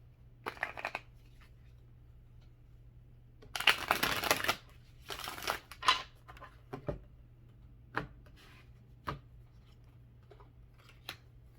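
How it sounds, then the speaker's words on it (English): Tarot cards being shuffled in a quiet room: a few short riffled bursts, the longest lasting about a second, then scattered soft slaps and taps as the deck is squared, fairly close and with no talking. "Let's get one more shuffle."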